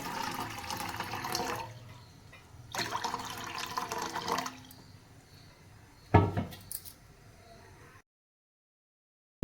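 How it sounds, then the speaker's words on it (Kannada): Water gushes and splashes into a pan in a few bursts, with gaps between, followed by a brief sharper splash before going silent, while making Udupi-style pineapple gojju. "ಇದಕ್ಕೆ ನಾನು ಸ್ವಲ್ಪ ನೀರು ಹಾಕ್ತೀನಿ"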